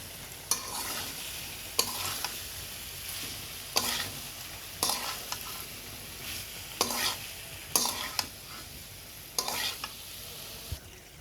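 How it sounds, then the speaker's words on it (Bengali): Boiled taro stolons are stir-fried in a pan over a steady background sizzle. About nine evenly spaced scraping strokes of the spatula cut through the frying noise. "ছড়ি কচুটা ভালোভাবে কষানো হয়ে গেছে।"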